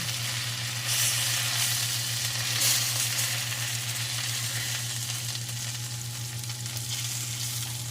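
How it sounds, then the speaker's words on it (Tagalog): White onion frying in a pan, a steady close bright sizzle with a low hum underneath, holding even throughout without voices. "At magluto ako ng sibuyas, white onion."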